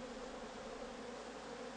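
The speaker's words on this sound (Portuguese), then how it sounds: "as abelhas voltam a trabalhar para fechar o buraco." Bees buzz around hive boxes kept for green propolis production, a soft, steady droning hum with no pauses, faint and heard on its own without voices.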